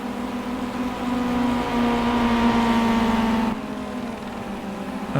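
A racing car in a BTCC video game, its engine droning at a steady high pitch as the wheels spin, then cutting abruptly to a lower, quieter tone partway through, with no voices.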